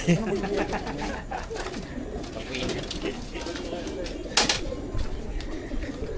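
Racing pigeons coo in a loft during a training toss in San Leonardo, a soft rolling cooing under steady background chatter and ambient noise, with one brief sharp burst near the end.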